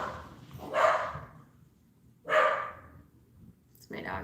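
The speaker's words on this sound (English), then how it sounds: "It's my dogs." Several dogs bark indoors in about three separate bursts, moderately loud, with a steady low background hum underneath.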